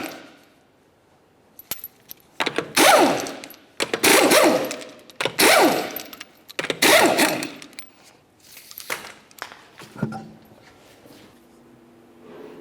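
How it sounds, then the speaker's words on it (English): Lug nuts being removed from the front wheel of a 2009 Pontiac Vibe with an impact tool, several bursts of whirring and clattering in sequence, each about a second long, close by, with metallic clinks between them. "continue on by removing all 5 of your 21mm lug nuts and then the wheel"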